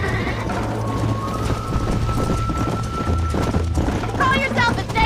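Rhythmic hoofbeats of a galloping horse in Red Dead Redemption 2, with a brief whinny near the end, set against a steady music bed and shouted voices.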